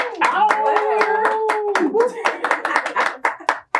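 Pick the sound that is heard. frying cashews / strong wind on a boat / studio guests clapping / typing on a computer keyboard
studio guests clapping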